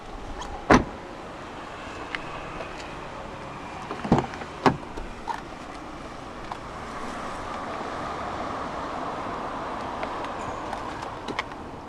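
A power window motor runs in a 2017 BMW 330e iPerformance M Sport, a low steady whir inside the cabin for several seconds, after a few sharp clunks of door or switch handling near the start.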